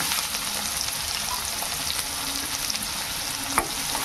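Onion frying in hot oil, a loud, dense and constant sizzle with stirring scrapes and one sharp clink near the end, heard alone without talk.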